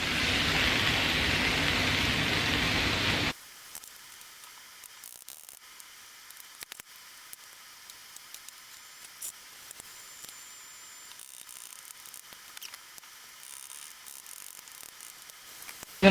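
Cauliflower rice cooks in a pan as the water evaporates, a broad steady hiss and sizzle for about three seconds that then drops abruptly to a near-silent background with faint occasional ticks.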